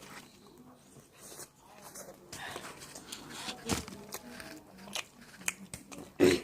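Someone bites into and chews pizza at close range, with small crunchy bites and soft mouth noises scattered through the moment; a voice speaks briefly and faint background sounds come and go.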